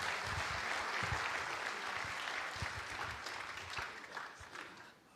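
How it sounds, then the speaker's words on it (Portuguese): An audience in a church book-launch event claps in sustained, steady applause that holds for several seconds and gradually tapers off. "uma salva de palmas por esta brilhante ação"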